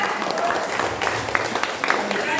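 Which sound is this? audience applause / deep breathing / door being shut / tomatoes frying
audience applause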